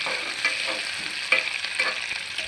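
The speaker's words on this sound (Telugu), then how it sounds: "ఇవి వేసిన తర్వాత కొంచెం కలబెట్టాం కదా ఇప్పుడు దోరగా వేయించుకోవాలి" Vegetables for a veg biryani stirred and fried in a pan, a steady close sizzle with scraping spoon strokes recurring every half second or so, no voices.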